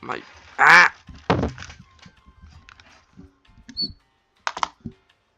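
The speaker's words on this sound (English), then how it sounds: "I'm gonna move my keyboard." A few clunks and knocks as a keyboard is shifted around on a desk, with scattered small taps and short pauses between.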